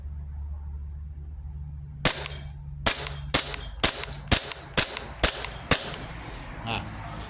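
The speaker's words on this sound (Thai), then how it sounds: "ยิงได้ปกติลูกหมดสไลด์ค้างนะครับผม" A WE Sig Sauer P320 airsoft pistol fires about ten sharp, close snapping shots at a steady pace until the magazine runs dry and the slide locks back, with a low hum underneath.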